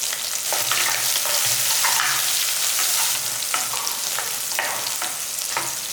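Garlic, shallots and curry leaves fry in hot oil for a fish curry, giving a steady, close sizzling crackle with scattered sharper pops and light stirring scrapes throughout, no voices.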